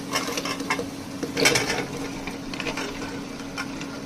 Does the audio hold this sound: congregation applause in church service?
no